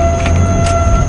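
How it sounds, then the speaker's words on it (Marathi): A train passes nearby in a brief burst of loud, steady rumbling with a sustained metallic whine over it. "ट्रेनचा आवाज."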